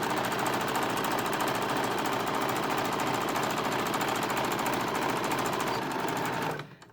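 A sewing machine stitches a seam at a fast, steady, even rhythm, running loud and close with no talk, then stops abruptly near the end.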